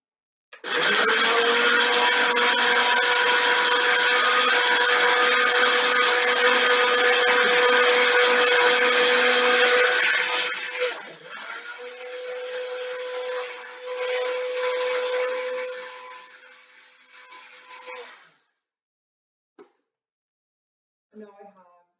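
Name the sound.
blender grinding jar contents into powder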